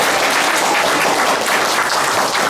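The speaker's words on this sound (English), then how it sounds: "So let's clap it up for PJ." Audience applause for PJ at a political education workshop, dense continuous clapping throughout at steady loudness, no talking over it.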